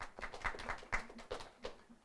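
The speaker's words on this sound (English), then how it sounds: "I get annoyed when y'all do all this clapping" Audience clapping in scattered, uneven bursts, a handful of sharp claps spaced irregularly across the moment, fairly close and moderately loud with no talk.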